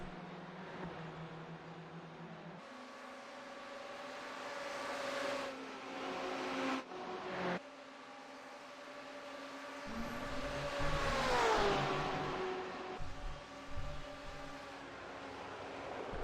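Two BMW GTE race cars battle for the lead at Daytona Road Course in iRacing, engines droning and shifting through gears with rising and falling pitch, moderately loud, one car sweeping past near the end.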